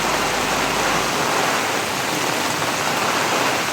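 Heavy typhoon rain from Typhoon Kristine in Camarines Norte pours as a dense, steady roar close by, continuous and loud throughout with no pauses.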